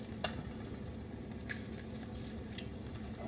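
A spatula scrapes through food frying in a pan for an 'I Love You' breakfast, with a few faint scraping clicks over a steady, soft sizzle.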